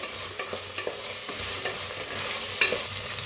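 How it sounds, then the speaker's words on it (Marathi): Potatoes with curry leaves, peanuts and peas frying in a pan for paneer masala bath, with a steady sizzle under repeated scraping stirs and one sharper clink near the end; no voices. "टाकूया कढीपत्ता, बटाटो टाकलेत बघा, मिक्स करून घेऊया"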